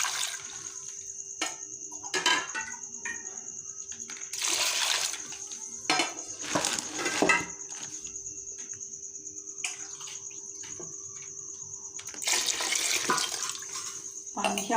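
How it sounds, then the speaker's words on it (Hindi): Water is poured into a cooking pot of meat and ground coriander for pulao, with several splashing bursts and clinks between quieter gaps. "तो अब इसमें पानी शामिल करेंगे।"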